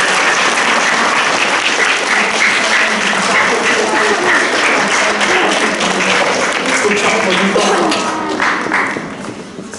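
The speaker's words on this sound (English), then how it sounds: "big round of applause for Hadju" A school celebration assembly audience gives loud, sustained applause for nearly ten seconds, dense clapping filling the hall before tapering slightly at the end, with some voices mixed in.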